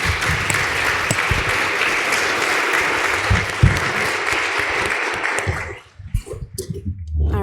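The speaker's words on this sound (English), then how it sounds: "Let's give our panelists a round of applause." Audience applause for panelists at a social justice lecture panel held at a law school: sustained dense clapping for about six seconds, then tapering into scattered claps.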